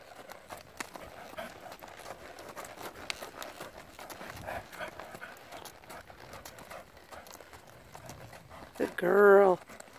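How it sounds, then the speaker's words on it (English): Mare's hooves clip-clopping at a steady working gait during winter training, continuous and moderately close, with someone talking over much of it and a louder voiced burst near the end. "Plan on really training on this mare this winter."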